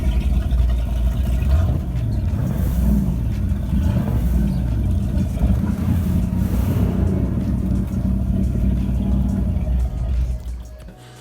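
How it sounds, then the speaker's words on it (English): An old American V8 engine in a boat idles with a steady, loud low rumble and throb, alone with no voices, before fading out near the end. "it does sound like one of those old lazy V8s that you get in an Impala or something"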